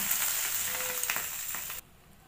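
Eggs frying in mustard oil in a covered pan for dim paturi, a steady close sizzle with faint stirring clicks that cuts off abruptly near the end, leaving only a low hiss.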